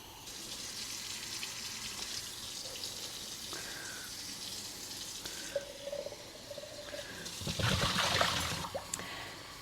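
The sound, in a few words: water filling containers from a tap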